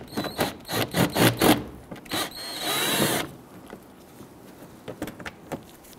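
Power drill spinning out 7 mm screws from the front fender liner of a Ford Explorer, several short buzzing bursts followed by one longer run, then quiet clicks and handling, close.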